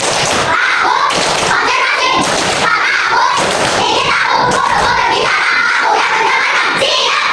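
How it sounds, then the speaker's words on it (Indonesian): Third-grade classroom students clap a rhythmic concentration routine, loud bursts of clapping in repeating patterns mixed with children's voices chanting along, close and lively throughout. "ayo kita tepuk konsentrasi"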